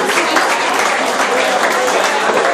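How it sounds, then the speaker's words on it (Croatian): Crowd applause at a party in a café after a memorial youth basketball tournament, dense and loud clapping that fills the whole moment, with some voices mixed in. "Jedan aplauz za Šrednjom Andrejcu."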